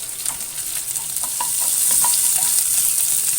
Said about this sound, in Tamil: இப்போ இது கூடவே நம்ம சுண்டைக்காவை போட்டு கொஞ்ச நேரம் நல்லா ஃப்ரை பண்ணணும்.